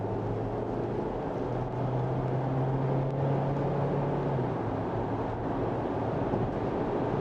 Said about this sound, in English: this is where I try to accelerate to see how fast it can go